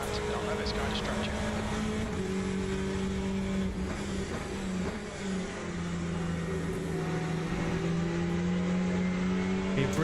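Ferrari GT race car engine in the Le Mans Ultimate racing game, a loud sustained drone that holds steady and shifts pitch through gear changes, with other cars and a commentator talking over it.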